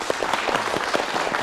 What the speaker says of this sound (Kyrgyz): Кол чаап коелу.